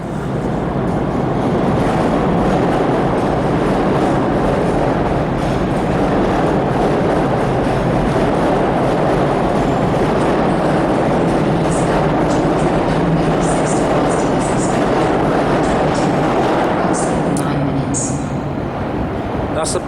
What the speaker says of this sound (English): That's the PATH train going back to the World Trade Center.